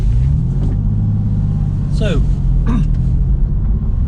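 A Porsche 911 with a heavy clutch pulling away, its engine a low steady rumble close by while someone talks over it.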